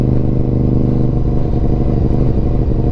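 Engine of a 2004 Honda RC51 Nicky Hayden Edition motorcycle idling close up, a steady loud throb with a mechanical clatter of gear-driven cams running through it, no one talking.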